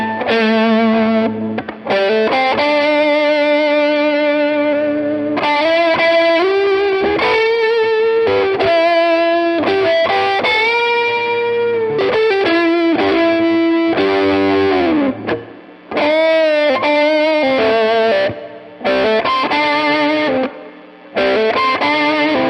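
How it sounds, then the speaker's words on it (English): A modded Fender Blues Jr. guitar amp played with crunchy overdrive and natural reverb, loud chords and melodic runs ringing out with lush decay and short pauses between phrases. "So you're actually getting a natural reverb sound on top of that crunch."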